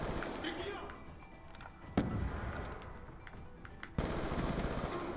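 An MSMC submachine gun fires in Black Ops 2 on the Wii U, rapid bursts of automatic gunfire with a couple of sharp louder cracks, heard at moderate level amid game noise and a voice speaking.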